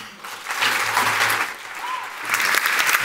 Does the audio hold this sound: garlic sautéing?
no